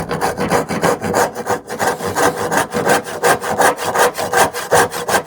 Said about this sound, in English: Now we'll just clamp it this way to saw these, make my initial saw curves.